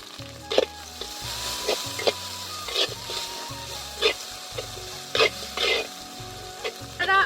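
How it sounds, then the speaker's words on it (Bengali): Chopped tomato added to frying ginger and garlic in a pan, with a soft steady sizzle and intermittent scraping stirs and clinks, close by; a faint hum runs beneath and no talk is heard. "তো এখন আদা রসুনটা ভাজা ভাজা হয়ে গেছে, এখন আমি এর মধ্যে টমেটো কুচি দিয়ে দেব।"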